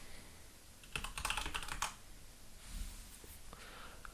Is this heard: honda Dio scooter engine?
no